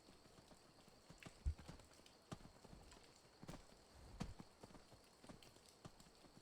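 Horse hooves clip-clop at a steady riding pace in the game Skyrim, survival mode, with a few heavier thuds standing out over a soft, continuous background.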